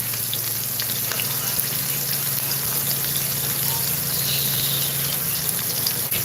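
Burgers fry in a covered pan, giving a steady, close crackling sizzle with fine spattering that holds evenly the whole time and carries no voices.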